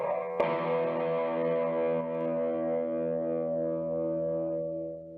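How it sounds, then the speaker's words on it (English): A guitar amplifier on a dark-toned rhythm distortion setting holds one thick, sustained distorted chord after a sharp pick attack, ringing for about five seconds before easing off slightly at the end. "Mode 1 is a darker sort of rhythm distortion."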